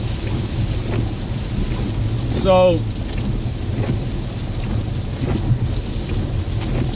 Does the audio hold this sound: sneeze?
no